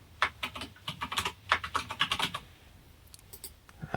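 Quick bursts of typing on a computer keyboard while a password is entered on a modified Amiga 500 setup, close and clattery, slowing into a few scattered keystrokes.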